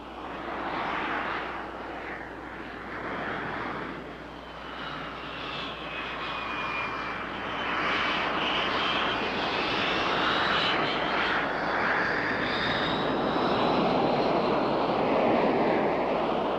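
A Gnat jet aircraft with a small RAF jet engine taxis over debris, its loud, steady jet roar and whine filling the whole stretch with a slowly shifting high tone and broadband rush.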